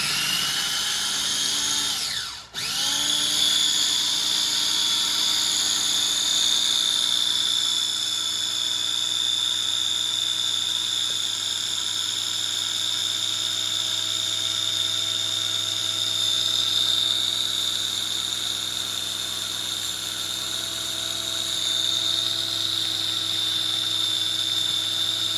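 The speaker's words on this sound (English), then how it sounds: "So put on my mini chop." A small electric mini chopper whirs steadily after a brief start-up, pureeing fresh herbs in oil with a loud, even high-pitched motor drone that runs uninterrupted without any talk.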